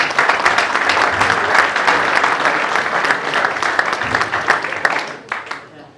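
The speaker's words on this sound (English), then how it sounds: "So nice round of applause to welcome" A fan forum audience applauds steadily and loudly for several seconds to welcome guests, the clapping dense and close before tapering off at the end.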